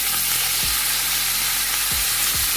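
Chicken fries in a pan with a dense, steady sizzle and hiss, broken by a few low knocks of stirring.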